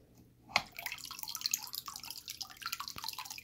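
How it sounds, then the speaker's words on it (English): Water from an aquarium drains with a steady trickle and splash into a bucket set off to the side, following a sharp knock near the start, with a continuous close, moderate pour and no talk. "it'll drain it into the bucket or whatever you have off to the side"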